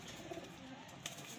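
Parwazi pigeons kept for sale coo softly in low, rounded tones, faint and close against a quiet background hiss.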